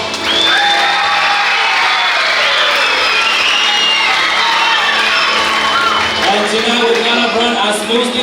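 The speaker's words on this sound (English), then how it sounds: "please give a warm round of applause to all of our students and their musical performances this evening" An audience at a school Christmas program applauds, cheers and whoops for the students' musical performances, a loud dense crowd roar that holds steady throughout.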